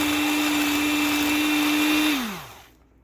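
An electric mixer whirs steadily at high speed through wet almond butter cookie ingredients with vanilla, a constant loud motorized drone that winds down in pitch and fades out as it is switched off near the end.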